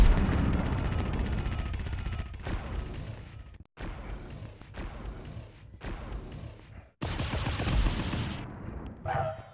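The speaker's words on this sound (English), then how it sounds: "I'm being shot at." Gunfire in the Small Soldiers video game rattles in dense, loud bursts aimed at the player, with brief silent gaps between volleys and a sharper burst near the end.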